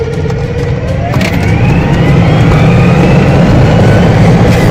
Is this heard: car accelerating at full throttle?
yes